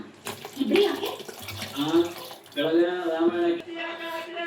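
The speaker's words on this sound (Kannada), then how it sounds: "ನಿಮ್ಗೆ ಎಷ್ಟು ಬೇಕೋ ಅಷ್ಟು ನೀರು ಹಾಕ್ಕೊಳ್ಳಿ" Water pours into a pan of fried tomatoes for a tomato egg curry, a steady running splash heard beneath continuous talking.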